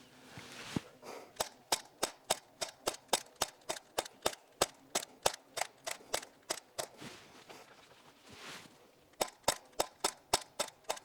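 A realistic BB pistol, a training replica of a Sig P365 or S&W M&P 2.0, fires a full magazine in a fast, steady run of sharp cracks with a short pause near the end before more shots follow.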